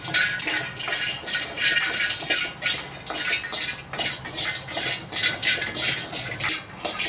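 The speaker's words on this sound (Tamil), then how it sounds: "பாதாமையும் நல்லா வெறும் கடாயில் நல்லா வறுத்து எடுத்துக்கலாம்" Almonds being dry-roasted in an empty kadai, with a spoon stirring and scraping against the metal pan in a steady clattering rhythm, close up and continuous, without any voices.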